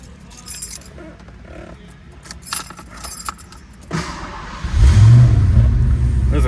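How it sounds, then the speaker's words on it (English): Keys jangle near the ignition, then a 1991 Ford Mustang GT V8 cranks and fires on a cold start, settling into a loud, rumbling idle up close. "There's a cold start."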